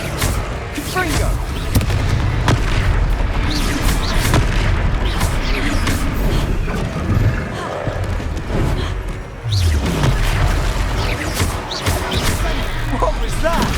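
A Confringo blasting spell goes off in Hogwarts Legacy, heavy booming blasts and crashes rolling through a dense, loud battle soundscape with voices speaking throughout.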